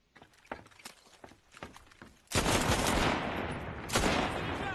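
Rifle firing quickly in the shooter game Enlisted: a run of sharp, separate shots with footsteps between them, then a louder sustained burst of gunfire near the end.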